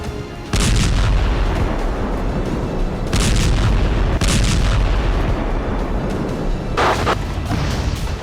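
Bomb explosions in Gaza: a dense, continuous roar of heavy booms and rumbling blasts, with several sharper bursts standing out loudly against the din.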